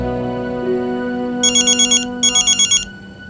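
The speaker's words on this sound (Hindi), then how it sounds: "उठा लो, लाउड स्पीकर पे डाल दो," A telephone rings in two bright, trilling bursts of rapid pulses, loud and close, over a low sustained musical drone that fades beneath it.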